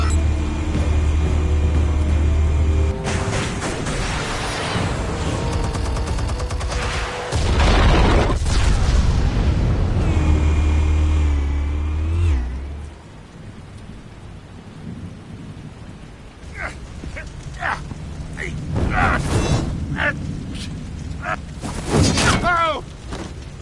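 Explosives detonating in the Batman Telltale video game: a heavy roaring blast rumbles on for several seconds, then settles into crackling debris and scattered sharp impacts with some voices underneath.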